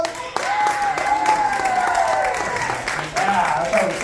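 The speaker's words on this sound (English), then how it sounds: "Give him a round of applause." Audience at a live magic show applauds, a moderate burst of clapping with cheering and whooping voices over it, dipping briefly near the middle before picking up again.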